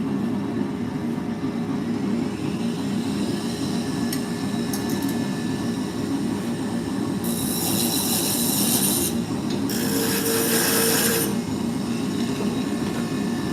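Wood turning on a lathe with a roughing gouge, a steady motor hum and rubbing scrape of the cutting tool, with brief bursts of hissing rasp midway through.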